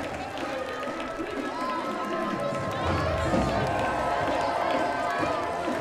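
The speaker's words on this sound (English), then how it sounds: "Everyone's applauding as the Marching 110's making their way off of Union Street." Crowd at a homecoming parade applauding and cheering as the Marching 110 band moves off Union Street, a broad continuous wash of clapping and crowd noise with a voice talking over it.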